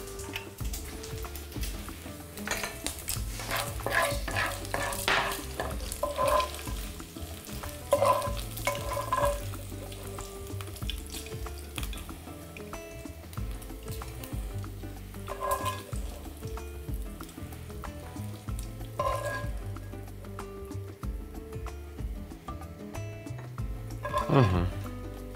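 Pork tenderloin frying in rendered pork fat, a low sizzle with frequent stirring and scraping clicks in the pan, close and fairly quiet throughout.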